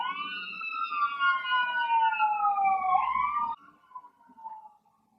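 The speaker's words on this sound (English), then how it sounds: "sirens." Emergency vehicle siren wails past outside, a loud sweeping tone that rises and falls for several seconds before cutting off abruptly, leaving faint fragments trailing afterward.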